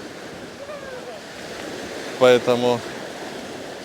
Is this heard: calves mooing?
no